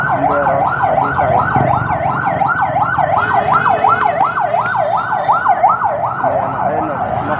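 A fire truck siren wails on a city street in a steady, rapidly rising and falling cycle, loud and close throughout, with traffic rumbling beneath it.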